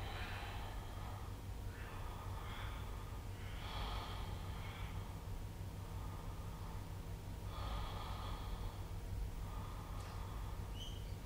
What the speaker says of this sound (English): 6 deep breaths here.